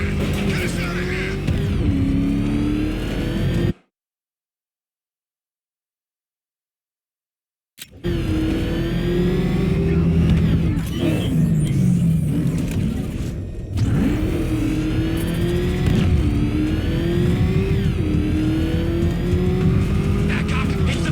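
Video-game car driving in Batman Arkham Knight: loud engine revving and accelerating with tire squeals and skids, broken by a few seconds of silence, while characters shout over the action.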